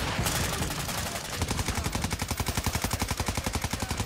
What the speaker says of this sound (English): They're shooting my own guy.